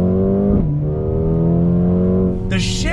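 A 2020 Mercedes-AMG CLA 35 sedan pulls away hard from a dead stop, its engine droning loud and close with rising revs, a brief dip at a gear change, then a throaty climb again.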